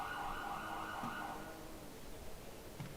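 A police car siren in a GTA role-play game, a sustained electronic wail held at steady loudness through the whole stretch, fairly distant and alone with no talk.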